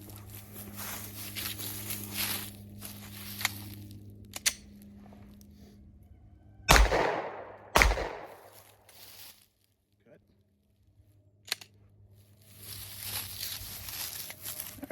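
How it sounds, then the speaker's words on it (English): Two sharp pistol shots from a Glock fitted with a rail adapter light, about a second apart and loud against a quiet outdoor background, followed by faint handling clicks. "what we're going to do is take a few shots with this, see how it holds up"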